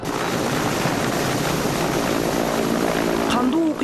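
Ukrainian armed forces helicopters flying near the edge of Slavyansk: a continuous, loud rotor and engine roar heard steadily throughout, with people talking over it.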